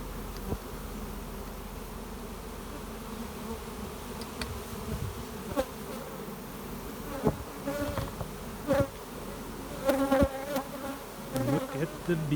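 Honey bees buzz around the hives of a bee yard during honey harvest, a close, continuous drone with individual bees zipping loudly past the microphone in short bursts toward the end.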